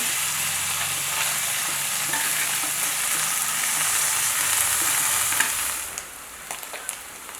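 Fasting cutlets fry in a pan until crispy, giving a steady, close hissing sizzle that holds evenly for several seconds before thinning out near the end.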